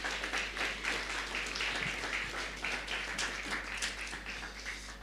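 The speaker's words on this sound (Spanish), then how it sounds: "fuertes aplausos" A church congregation at a Sunday service claps after a worship music group performs, a full, continuous patter of hands with a low steady hum underneath, gradually easing toward the end.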